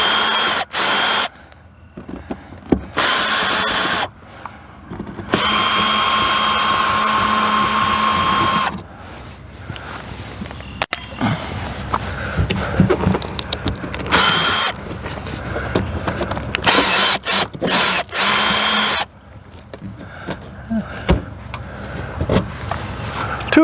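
A power drill spins screws in and out of an RV Suburban furnace, several whirring bursts of varying length separated by quiet gaps and handling noise.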